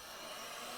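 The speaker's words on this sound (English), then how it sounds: "I have this heat gun." A heat gun blows steadily on heat shrink tubing during a wiring repair on a GMC Motorhome, producing a constant, loud airy roar with no break.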